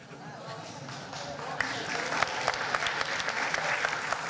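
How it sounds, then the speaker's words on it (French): A crowd claps at a political programme presentation for the Avignon 2026 municipal race, in a hall. The applause starts light, then swells into a dense, lively burst that keeps going to the end. "Vous applaudissez, je ne savez pas encore ce que je vais dire."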